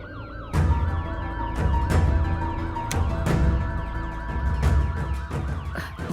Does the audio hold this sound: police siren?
yes